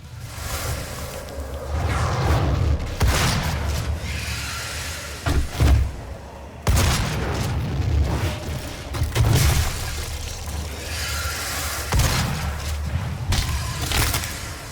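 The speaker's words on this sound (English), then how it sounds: "The combat shotgun in Doom 2016 emits an effective but standard sounding effect." Combat shotgun blasts from the 2016 Doom video game, several heavy booming shots spaced a few seconds apart with whooshing tails, loud and close with no talk.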